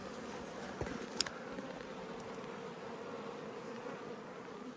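Honey bees buzzing steadily around a hive in an Australian backyard apiary, where a four-week-old nuc has been split, forming a continuous, fairly faint drone with a couple of brief sharper buzzes as bees pass close.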